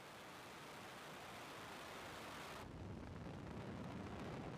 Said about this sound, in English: Ignition. Liftoff of the Falcon 9.